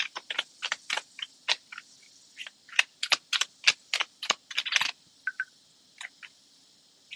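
Tarot cards being shuffled by hand give a quick run of crisp, close snapping riffles in irregular bursts, then a few scattered flicks as the shuffle winds down.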